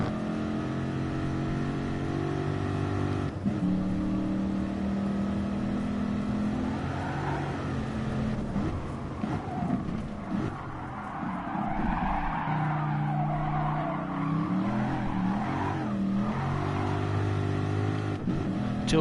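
A race car in Gran Turismo Sport holds a steady, loud engine whine that rises and falls through the gears, with long tyre squeals and skidding on a corner exit.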